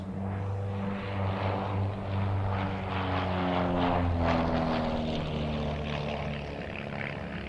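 Aerobatic propeller airplanes perform at a military base airshow, a sustained droning engine hum with steady tonal harmonics that swells and wavers as the planes maneuver, moderately distant and continuous.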